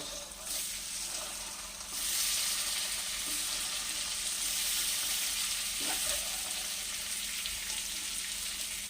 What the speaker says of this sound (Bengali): এই তেলের মধ্যে আমি হলুদ দিয়ে দিচ্ছি দিয়ে ডিমগুলোকে এবার তেলে দিয়ে ভেজে নেব